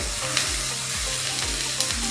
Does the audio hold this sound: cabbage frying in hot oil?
yes